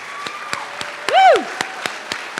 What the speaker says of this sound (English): I got to give you a round of applause